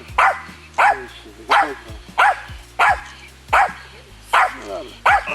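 A dog barks about eight times at an even rhythm, fairly loud and close, during a carp-fishing outing, with a low steady hum underneath.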